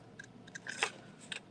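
Scissors snip through paper in several quick, close cuts, with short pauses between them.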